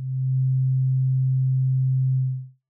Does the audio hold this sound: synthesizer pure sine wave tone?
yes